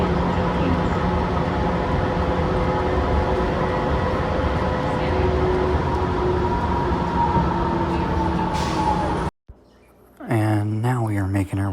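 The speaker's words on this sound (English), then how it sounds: "Here we are getting ready to race to our next gate by taking the Seattle Airport train." The Seattle airport train rumbles loud and steady with rail squeal and whine for about nine seconds, then cuts out sharply, and a voice follows.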